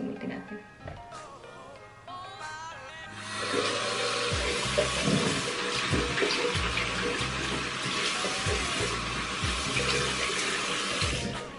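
Lukewarm tap water starts running after a few seconds of quiet handling noises, then pours in a steady, close splashing stream until the end.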